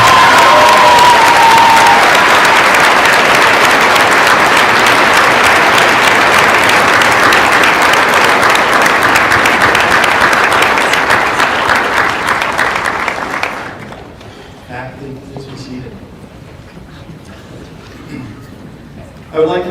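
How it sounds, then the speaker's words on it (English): Dense, loud applause from a large crowd honoring faculty at a university commencement ceremony, steady for about thirteen seconds before dropping away to scattered distant sounds. "a big Western round of applause"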